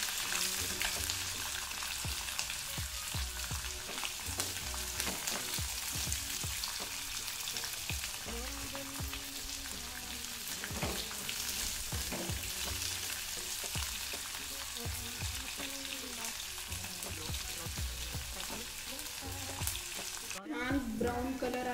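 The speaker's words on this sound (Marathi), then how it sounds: "कांदा पण मी याच्यामध्ये परतून घेते" Onion frying with browned coconut in a pan gives a continuous close crackling sizzle, with occasional stirring scrapes and a sharp clatter near the end.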